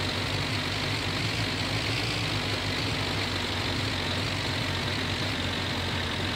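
A tractor engine idles in My Summer Car during a hay bale job, a steady loud low rumble that holds throughout with no voices.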